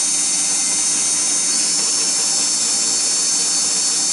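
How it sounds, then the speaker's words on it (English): A fine polishing wheel spins against sterling silver beads, giving a steady high-pitched whirring hiss that stays even and close for the whole stretch, with no talking. "for the fine polishing wheel, what you're going to find is that it heats up much faster"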